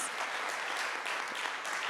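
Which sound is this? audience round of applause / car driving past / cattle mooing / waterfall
audience round of applause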